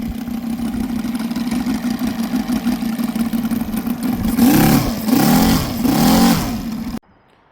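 An OS Sirius FR300 five-cylinder radial model engine idles with a steady drone, then revs up hard three times in a row before cutting off abruptly.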